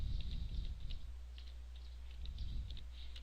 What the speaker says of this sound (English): And I'm just going to type in here, keyboard.